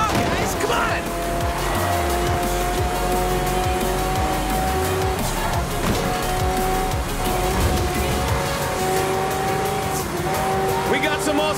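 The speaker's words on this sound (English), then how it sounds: "We got some awesome racing trucks out there, too!" Racing trucks and hypercars, including a Lamborghini Centenario and Ferrari FXX, roar through a street festival race in Forza Horizon 4, with engines revving, tires squealing and cars passing continuously under loud excited commentary.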